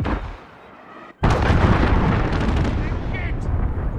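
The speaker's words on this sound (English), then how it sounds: "Allied cruise missile on the way." Cruise missile strikes in a multiplayer shooter's domination match: after a brief lull, a sudden loud blast opens into a sustained, rumbling barrage of explosions that rolls on close and heavy, with faint chatter underneath.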